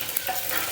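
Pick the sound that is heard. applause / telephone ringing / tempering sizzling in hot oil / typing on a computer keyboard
tempering sizzling in hot oil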